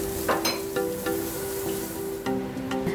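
Chopped garlic and onion sauté in a hot pan for pancit lomi, giving a continuous close sizzle broken by short clinks and scrapes of a utensil stirring.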